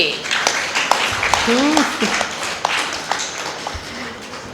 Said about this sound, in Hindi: ताली बजाओ सभी।